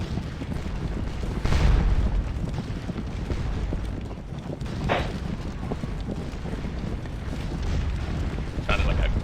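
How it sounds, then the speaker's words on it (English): Sharp bangs from a gunshot or firework on the 4th of July, coming from a neighbouring apartment. Three brief, fairly distant reports are spread apart over a steady background of battle-game noise. "Sounded like a gunshot just went off one of the other apartments. Or maybe a firework"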